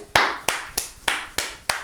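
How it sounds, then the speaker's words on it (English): One person clapping hands six times at an even, unhurried pace, close and crisp, each clap sharp with a short decay and no talking. "Am I applauding myself?"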